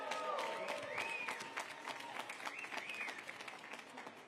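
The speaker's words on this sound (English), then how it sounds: "Yes, we can clap for that." An audience claps steadily at a Pride Month reception hosted by the mayor, a dense wash of close hand claps filling the whole stretch, with a few voices and whoops rising over it before it eases slightly.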